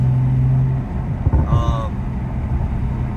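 Toyota Supra with a tuned transmission rolling on light throttle in gentle acceleration, a low steady engine hum with a brief rise partway through and a person talking over it.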